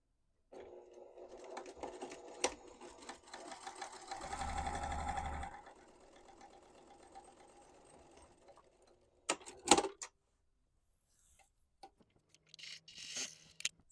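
Sewing machine with an eighth-inch presser foot top stitching folded fabric pieces for a round potholder: a steady mechanical whirring run of several seconds, briefly louder and fuller in the middle, then a few short clicks and handling noises, close and quiet.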